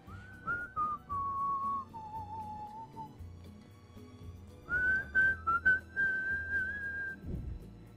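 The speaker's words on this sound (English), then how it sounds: "Everybody, whistle." Several people whistle together during a Latin dance fitness routine, with sustained tonal whistles that slide between pitches, separated by a short pause, over a quiet beat.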